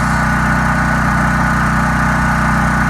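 A brand-new Champion 100297 generator engine running on its first start, a loud, steady, close droning hum with a constant rhythmic pulse and no change in pitch, heard alone without talking.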